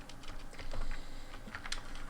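Quick, uneven keystrokes clack on a computer keyboard during programming work, a soft close patter of individual taps and short bursts.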